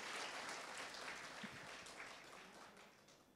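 Applause for a pastor at a church prayer revival meeting, a dense crowd clapping loudly at first and tapering slightly over a few seconds, with no talking.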